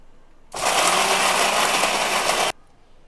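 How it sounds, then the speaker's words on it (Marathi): A mixer grinder grinds coconut into a paste, starting abruptly into a loud, steady whirring roar that holds for about two seconds and then cuts off sharply, close up with no talking. "आता आपण इथे खोबरे चांगले बारीक करून घेणार आहोत."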